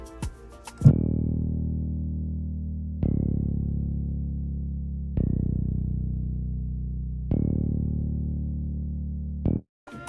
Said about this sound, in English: we have a bass from Expand, the Very Hard Finger bass